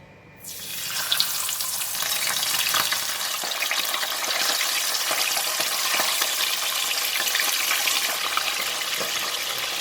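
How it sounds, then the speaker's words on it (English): Turmeric-marinated fish pieces drop into very hot oil and erupt into a loud, steady crackling sizzle that rises within the first second and holds close and constant with dense popping spatters. "We don't have to wait, we just straight away can deep fry it."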